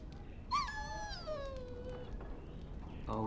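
A dog in the video game Dragon Age Origins whimpers in a high, falling whine, then gives a few softer whimpers, close and fairly quiet.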